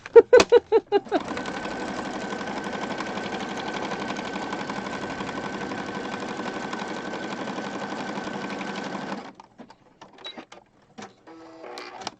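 A sewing machine stitches through a handmade autumn junk journal, a few quick starting thumps followed by a long, steady, close mechanical whir that stops abruptly, then scattered handling clicks.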